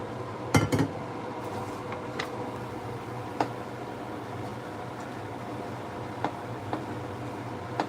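Turkey meat cooking in a pan, stirred now and then, with a few sharp utensil clinks against the pan over a low, steady frying hiss.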